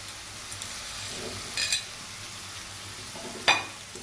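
Tomato pieces sizzle softly in a pan of cooked-down spice masala, and a few sharper scrapes mark the spoon stirring them.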